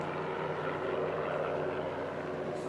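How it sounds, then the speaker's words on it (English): Helicopter hovering over an outdoor hardcourt tennis match in Cincinnati in 1992, a constant rotor and engine drone holding steady throughout, moderately distant. "There's a chopper hovering overhead."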